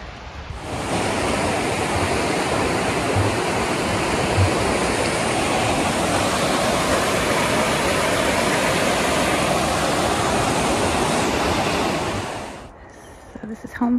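Burney Falls in California roars as a steady, dense wash of falling water, loud and unbroken for about twelve seconds before it abruptly cuts away near the end.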